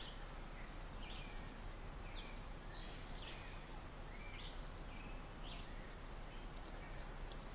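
Outdoor birdsong: several birds chirp and twitter faintly at a distance over a steady hushed background, with calls repeating throughout.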